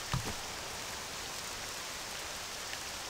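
Poisoned rain from the video game Octopath Traveler II falls steadily as a soft, even hiss that lasts throughout, with one brief louder patter near the start and no voices.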